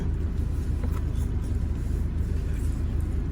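Steady low road rumble of a car being driven, a continuous engine and tyre drone with no clear revving, close and fairly loud throughout.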